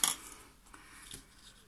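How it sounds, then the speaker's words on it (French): Small scissors snip double-sided tape, about 1 mm thick, while a paper calendar is being made: one crisp, close cut at the start, then a few faint clicks and rustles in a quiet room. "Mes petits ciseaux."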